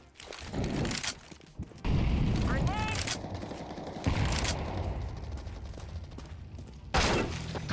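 Automatic gunfire in Counter-Strike 2 rattles in dense, sustained bursts with a few sharp louder volleys, while voices talk over parts of the action.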